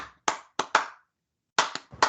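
Huge stadium crowd at the AEW All In wrestling show in the UK clapping in unison, sharp synchronized claps in groups of three with short silent gaps between bursts, loud and close.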